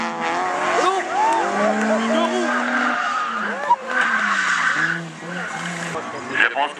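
A BMW race car drifts with its tail sliding out, tires squealing in long wavering skids alongside engine revving, loud and close, with people talking over it.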